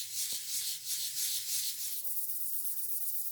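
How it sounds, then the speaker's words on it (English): Plaster edges on a small model are sanded by hand, producing a steady, soft, rhythmic rasping scrub of quick back-and-forth strokes close up that eases toward the end. "And sanding it back sharper."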